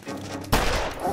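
Pistol gunshots in The Long Dark video game: one sharp, loud report cuts in abruptly after a quieter stretch of low rumbling game ambience, leaving a dense noisy decay behind it.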